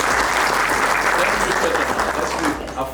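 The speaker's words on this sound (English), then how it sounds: "Can we clap for them?" A room full of people claps loudly and continuously for about three seconds, tapering slightly at the end.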